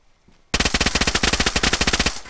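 Automatic rifle fire in the video game DayZ: after a brief quiet, a loud rapid burst of about twenty closely spaced shots ringing out close by, with no talking.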